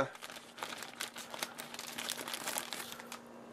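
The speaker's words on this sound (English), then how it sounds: "let's go ahead and cut open the packaging here" Snips cutting open plastic packaging around a Rockman collectible figure: close, steady crinkling and crunching of stiff plastic with small sharp snaps, continuous over a few seconds.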